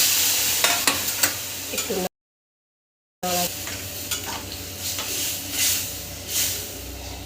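Malabar spinach and prawns sizzle and hiss in a pan while being stirred, with scraping spoon strokes, close and fairly loud, a brief silent gap midway, and a single short spoken word.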